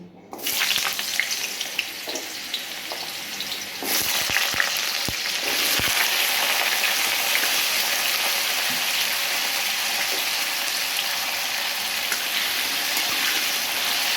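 Potatoes hitting hot oil in a pan, a loud steady sizzle and crackle that starts abruptly and keeps going, with a few clinks of a utensil near the start.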